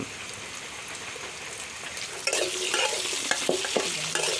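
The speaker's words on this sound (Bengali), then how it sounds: "আলুগুলো ভালো করে ভেজে নেওয়া হবে এখন।" Potatoes frying for Bengali khichuri in a very large wok over a small stove, with a steady sizzle and, after a moment, louder stirring scrapes and rattles close by.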